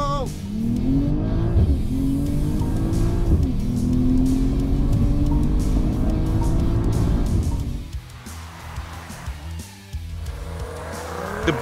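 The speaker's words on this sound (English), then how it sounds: "The BMW is savage at launch. It backs up the noise with some serious go." A BMW M340i and a Volvo C40 launch in a drag race with revving engines and squealing tires, a loud rising engine sweep fading as the cars pull away, with excited voices over it.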